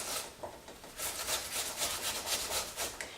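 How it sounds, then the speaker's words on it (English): Cucumber rubbed against a box grater, producing quick rhythmic rasping strokes, close and fairly soft, with no talking. "I'm just using a box grater to grate up the cucumber."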